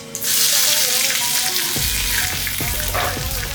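Spices, Bengal gram, black gram, Kashmiri red chili and green chilies sizzling in hot oil in a pan and being stirred, a loud steady frying hiss with scraping stir sounds near the end.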